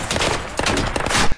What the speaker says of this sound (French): Cette scène-là est enchaînée d'une fusillade sur l'autoroute.